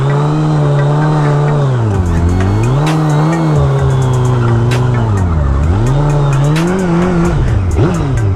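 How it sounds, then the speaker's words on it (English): A Suzuki Hayabusa motorcycle does a circle burnout, its engine revving loud and close in rising and falling sweeps over a continuous squeal of the spinning rear tire. "See if we can do a little circle burnout on it."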